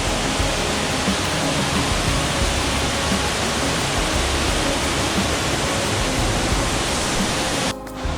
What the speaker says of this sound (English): Here are the waterfalls.